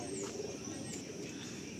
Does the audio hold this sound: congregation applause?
no